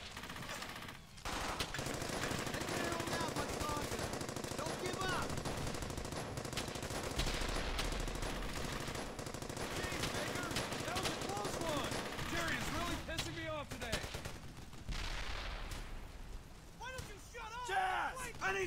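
An MG-42 machine gun rattles in sustained bursts during a Brothers in Arms Hell's Highway firefight, joined by other gunshots, with soldiers shouting over the loud, nearly continuous fire.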